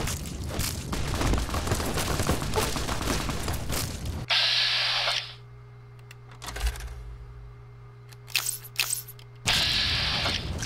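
Rapid automatic gunfire rattles loudly in the Fallout: New Vegas Honest Hearts game, a dense burst lasting several seconds, then quieter game ambience with scattered sharp shots and clicks before another loud burst.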